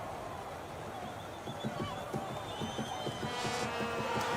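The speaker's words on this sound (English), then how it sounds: "The crowd is going wild with joy." A crowd cheers at a marble race world cup elimination event. The cheering is fairly faint and builds steadily, with rhythmic clapping or stomping pulses and rising whistles and shouts near the end.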